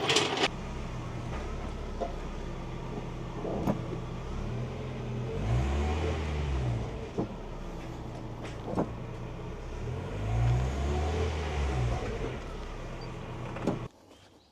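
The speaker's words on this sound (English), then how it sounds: "We're actually going to drive the vehicle forward, slam on the brake, and torque it again." A 1992 Mazda Miata rolls forward and brakes hard twice, with two low engine surges a few seconds apart and light mechanical clunks in between, fairly close and moderately loud.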